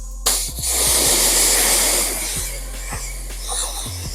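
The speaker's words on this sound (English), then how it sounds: "When you're done cleaning your wheel, you want to give your brushes a quick rinse off" A water spray rinses wheel-cleaning brushes during car detailing, giving a loud, steady hiss up close that runs for several seconds with faint knocks underneath.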